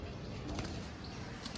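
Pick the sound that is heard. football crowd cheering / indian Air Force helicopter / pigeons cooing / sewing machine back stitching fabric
pigeons cooing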